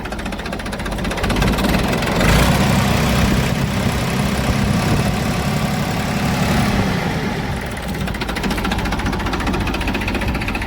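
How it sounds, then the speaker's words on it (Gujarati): A 2012 New Holland 3230 diesel tractor engine idles loudly and steadily nearby, a rough rhythmic chugging that swells slightly midway, with no talking. "engine powerful"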